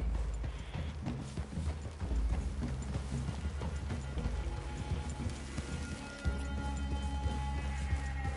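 Horse hooves clip-clop steadily through the Red Dead Redemption 2 game world, a continuous rhythmic patter close by, with a rain-like hiss and ambient game sound in the background.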